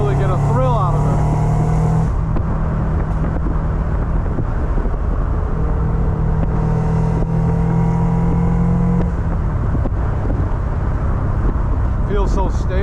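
A 2001 Mazda MX-5 NB2 sports car with an exhaust system, driven on the road. A loud, steady engine drone plays close and continuous, with its pitch rising and falling around gear changes.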